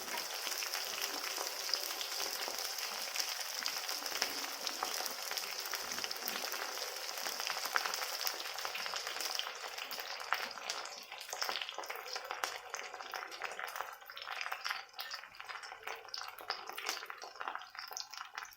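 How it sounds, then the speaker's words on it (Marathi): Sliced potato frying in hot oil in a pan for sabudana khichdi, a steady bright sizzle and crackle that runs continuously, loud at first and thinning slightly after a stir midway, with no talk. "बटाटा तेलात चांगला भाजून द्यायचं"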